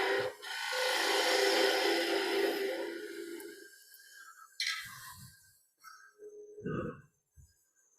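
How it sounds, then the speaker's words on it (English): A spindle gouge makes shallow cuts on a wood lathe, a scraping rasp lasting a couple of seconds, then fading into scattered short scrapes and taps. "A few shallow cuts with spindle gauge."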